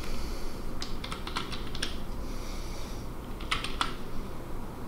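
Computer keyboard typing out a command in drafting software while working on custom hatch patterns: quick bursts of light keystroke clicks in two groups, over a steady background hum.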